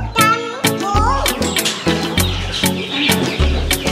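Chickens being fed on a farm give repeated clucking calls that sound close and loud, with a steady rhythm of short bursts and faint chirps behind them.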